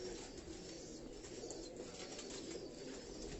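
Pigeons kept by a pigeon fancier in Karachi, soft cooing with some wing flapping, faint and low against a constant background hum, with no voices.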